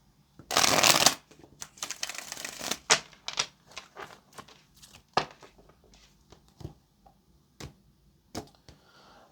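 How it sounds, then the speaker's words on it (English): A deck of tarot cards is shuffled by hand, opening with a dense riffling burst and followed by scattered crisp card snaps and taps up close. "Okay, this is the last shuffle right here."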